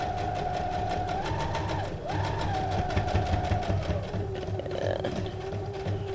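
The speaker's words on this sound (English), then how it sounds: "I like that this sewing machine, I can control the speed" A Brother SQ9185 computerized sewing machine runs continuously, a close steady mechanical whir with rapid stitching pulses and a motor tone that rises and shifts as the speed changes.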